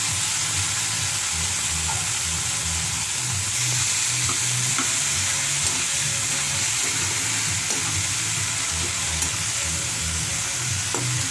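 Tomato pulp frying and being stirred in a hot pan, a continuous loud sizzle with regular scraping stirring strokes throughout, no talk over it.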